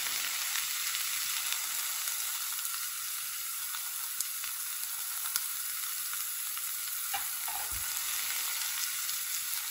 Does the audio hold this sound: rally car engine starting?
no